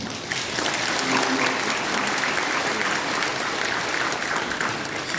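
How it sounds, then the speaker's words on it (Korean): A church congregation applauds its choir with loud, continuous clapping that rings through the sanctuary, dense and even for several seconds with no break. "우리 성가대 위에서 박수를 한번"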